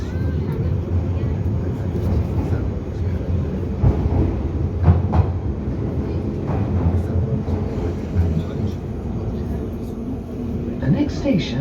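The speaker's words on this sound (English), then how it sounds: "This is a Piccadilly line service to Heathrow Terminals 4 and Terminals" A London Underground Piccadilly line train runs through the tunnel with a continuous loud low rumble and wheel roar, punctuated by occasional squeals and clanks, while a voice is heard over the noise throughout.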